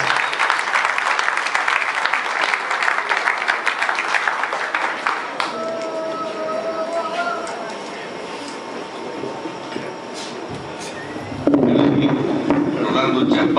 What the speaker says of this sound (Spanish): Rolando Chaparro, la versión merece un aplauso muy especial.